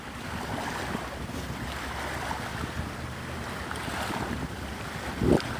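Steady waterfront ambience on the Santa Rosa Sound in Navarre, Florida: continuous wind noise and lapping water fill the clip, with a brief sharper knock near the end and no talking.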